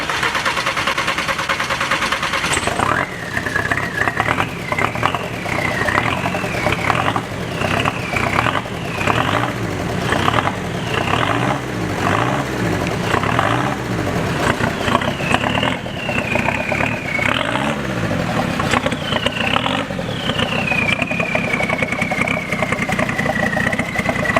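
A Cummins turbo diesel engine fitted in a Volkswagen Beetle starts and idles, a loud continuous rumble with uneven throttle blips and a rhythmic chugging running steadily throughout.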